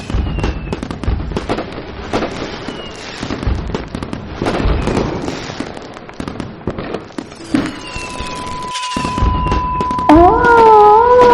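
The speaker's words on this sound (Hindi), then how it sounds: "अब इस टाइम कौन पटाखे फोड़ता है?" Diwali firecrackers burst in a dense, continuous crackle of pops and bangs at middle distance, with dogs howling and whining over the racket near the end.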